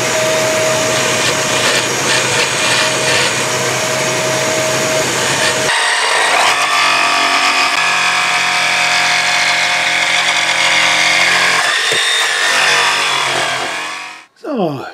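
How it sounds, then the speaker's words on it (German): A jigsaw cuts an elongated slot in wood, buzzing loud and steady up close with a change in tone partway through, then stopping near the end. "schneide dann mit der Stichsäge das Loch aus"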